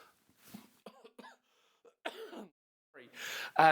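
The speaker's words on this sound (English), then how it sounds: "Forgive me, I have to cough." A few harsh coughs burst out close by with short pauses between them, the last one loudest, with bits of quiet speech-like sounds before.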